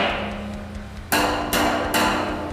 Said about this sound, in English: The rubber hammer if you want that thud.